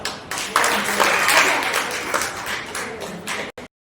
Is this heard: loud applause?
yes